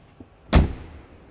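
Door of a top-of-the-range Adria Supersonic motorhome pushed shut, one close, solid thud with a short rattle after it, heard alone.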